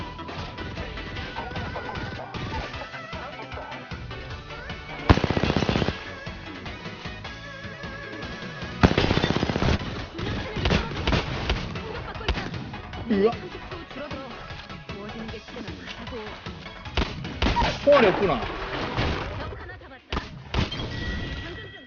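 Gunfire in the Apex Legends battle royale game, a busy stretch of shots and impacts with louder bursts near 5 and 9 seconds, heard under ongoing talk throughout.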